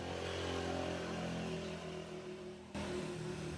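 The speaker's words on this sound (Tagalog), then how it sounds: "narinig nyo, may tricycle na naman" A motorcycle-engined tricycle passes on a rural provincial road, its mid-pitched engine droning steadily and fairly close before trailing off, with no talk over it.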